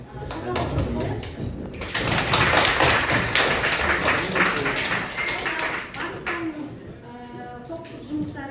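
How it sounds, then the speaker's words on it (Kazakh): Pupils and a teacher clap for one another's group work in a classroom during a teaching competition lesson, sustained mixed clapping with tapping and thuds that swells and then thins out near the end. "Барлығымыз бір-біріміздің жұмысымызды бағалау үшін шапалақ қойып қояйықшы."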